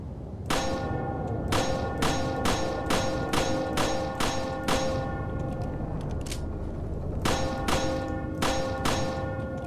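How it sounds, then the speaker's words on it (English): A church bell in a churchyard in the video game Resident Evil 4 clangs in a steady series of loud, ringing strikes, pausing briefly before resuming, each toll leaving a metallic ring. "You can summon more enemies in this churchyard if you ring the church bell."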